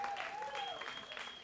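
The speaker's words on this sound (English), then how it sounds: "Another round of applause for Jay Golden, please." A crowd applauds for a performer at a live comedy night, steady clapping with cheering voices, while a whistle-like tone glides through the noise.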